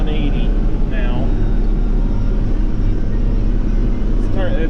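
A John Deere 4640 tractor engine drones loudly and continuously while pulling a hay baler in a field, a deep steady rumble heard from the cab with faint squeaks and someone talking over it.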